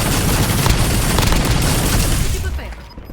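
Dense, continuous gunfire and booms from the Call of Duty Warzone video game, a loud sustained barrage of rapid shots that fades out near the end.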